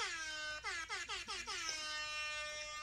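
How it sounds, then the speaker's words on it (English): A loud air horn blares in a series of short, bending blasts, then holds one long sustained note that fades out. "Not that obnoxious air horn again."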